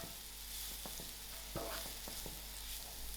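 Chakalaka vegetables with salt added are stirred in a frying pan, giving a soft, continuous sizzle with a few faint scraping strokes, quiet and distant.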